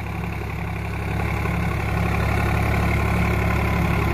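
A Sonalika tractor engine runs steadily at roughly 1500–1600 RPM while pulling a cultivator through ordinary field soil, giving a continuous low, droning rumble at an even loudness with no talking.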